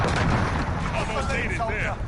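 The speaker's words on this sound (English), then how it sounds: "Enemy cruise missile incoming." Booming blasts and gunfire from a cruise missile strike in a Call of Duty style shooter game, a dense continuous barrage of loud explosions with voices over it.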